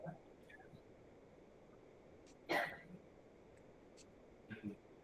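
Coughing from a person during an essay mentoring session, a loud burst near the middle and a smaller one near the end, over quiet room noise.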